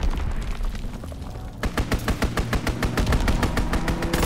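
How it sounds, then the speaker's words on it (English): Rapid machine-gun fire from an enemy aircraft's strafing run in the Call of Duty WWII video game, a dense, loud burst of gunshots that sharpens into distinct rhythmic rounds partway through, with no speech. "Enemy strafing run, inbound."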